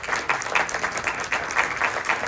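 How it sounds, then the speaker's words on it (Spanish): Applause from a symposium audience, fairly close and loud, with individual claps standing out in a quick, uneven rhythm over a continuous clapping bed and no talk. "le pido un fuerte aplauso para él como responsable"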